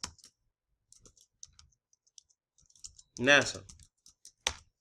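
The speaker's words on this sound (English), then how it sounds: "I'm going to type in" Sparse, light clicks from keys on a computer keyboard tap out irregularly, short and close, with a brief spoken word partway through.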